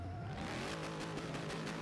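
Dodge Charger R/T engine revving in the racing game Forza Horizon 3, a steady loud mechanical drone with tire noise and engine roar throughout, no talking.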